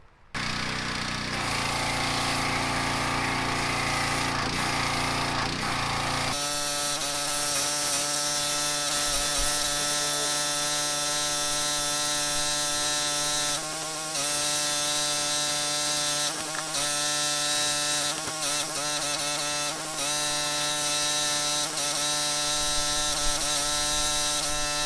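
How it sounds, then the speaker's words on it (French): A foam gun sprays soap foam onto a quad during a wash, a steady close, loud hiss running continuously throughout with a few brief shifts in tone. "je vais commencer à foamer la machine."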